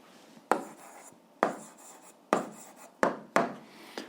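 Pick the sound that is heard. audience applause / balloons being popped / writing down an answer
writing down an answer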